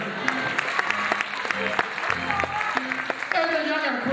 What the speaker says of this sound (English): Come on, give God a hand clap and pray.